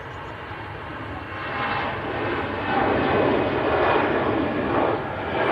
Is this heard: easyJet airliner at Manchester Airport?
yes